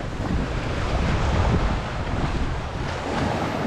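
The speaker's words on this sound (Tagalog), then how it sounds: "Malaki bagang tubig." Strong wind and rushing waves on a large body of water seen from a rock outcrop, a constant loud roar with heavy wind buffeting the microphone throughout.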